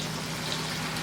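Oysters for oyster karaage deep-fry in hot oil with a steady, dense, close sizzle.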